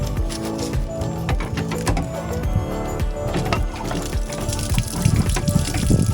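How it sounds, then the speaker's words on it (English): Dirty grey water draining from an RV kitchen sink, a steady gushing, splashing flow with a few heavier surges, close and continuous for the whole stretch. "literally the water from the kitchen sink coming out"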